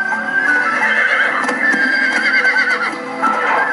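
Horses neigh loudly and close by in a long, wavering whinny while hooves clip-clop underneath, with no voices over it.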